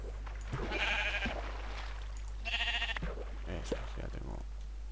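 Sheep bleating in the video game Minecraft, two clear nasal bleats spaced a couple of seconds apart, with a person speaking softly in between.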